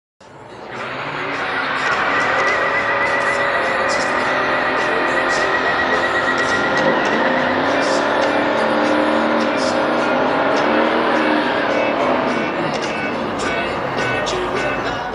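A 1969 Chevrolet Yenko Camaro and a 1970 Ford Torino Super Cobra Jet launch in a heads-up quarter-mile drag race, loud engine roar building fast and holding steady through hard acceleration before easing off near the end, with crowd and track noise underneath.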